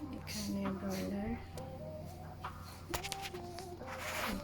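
Broiler chickens cluck and call at a holiday park, moderately close, while a person talks over them.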